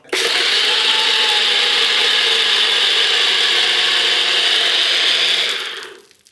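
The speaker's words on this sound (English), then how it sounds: "So this just needs 60 seconds in a blender of this style." A countertop blender whirring through green juice with mint, a loud steady grinding roar that runs unbroken for about six seconds before winding down to stop.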